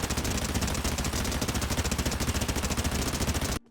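Sustained rapid-fire gunshots ring out on a Fortnite training map recoil section, a dense, even stream of loud shots that continues without pause for several seconds, then cuts off abruptly.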